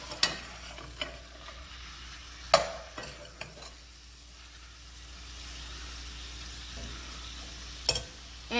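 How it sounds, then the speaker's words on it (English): Seasoned shrimp stirred in a pan for a New Orleans-style shrimp and crab po' boy, giving a few sharp scraping clacks over a low steady sizzle, with quieter stretches between the strokes. "We want to give our shrimp a stir to make sure all of our seasoning is mixed."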